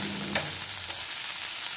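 Vegetables sautéing in a pan give a steady, close sizzle and crackle of frying that holds evenly throughout, with no talking.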